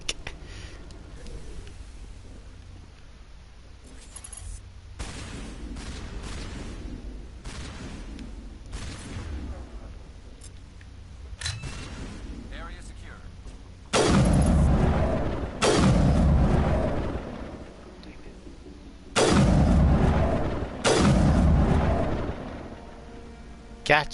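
Gunfire and blasts in Mass Effect combat, scattered sharp bursts early, then several heavy loud booming volleys in the latter half, with voices talking intermittently between shots.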